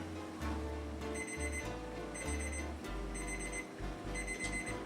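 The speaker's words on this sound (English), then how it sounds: "Our timer has beeped." A kitchen timer beeps in quick repeated bursts of bright electronic tones, close and clear over a low background hum, while fiddlehead ferns are being cooked.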